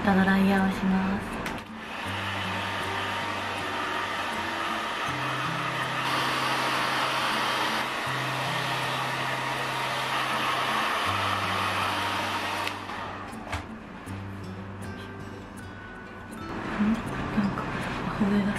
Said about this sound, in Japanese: そしたらまたドライヤーをします。